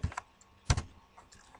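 Typing on a computer keyboard into MATLAB: a few quick, close key clicks in two short bursts with small taps between, alone without speech.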